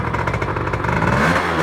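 A Yamaha F1ZR motorcycle engine revved hard and held at high revs, a loud, continuous, rough two-stroke drone up close with no pauses.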